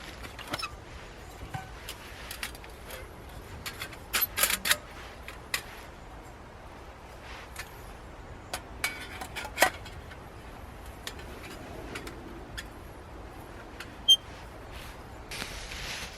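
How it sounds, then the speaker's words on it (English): A Firebox stove being set up outdoors in woodland, with quiet scattered metallic clicks, taps and clinks of parts being fitted together over faint outdoor ambience. "So what I'm going to do now is get the firebox ready."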